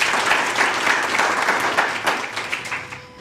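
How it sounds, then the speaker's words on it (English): An audience at a community service awards ceremony breaks into sustained, full applause that stays loud before tapering slightly near the end. "I think you can give yourselves a round of applause."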